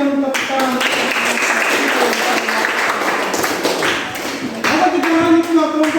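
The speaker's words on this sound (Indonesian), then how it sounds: "Oke, baik, kita berikan tepuk tangan." Classroom group applauding a student presentation group, with steady, dense hand clapping from many people filling the whole stretch, swelling slightly near the end, with some voices mixed in.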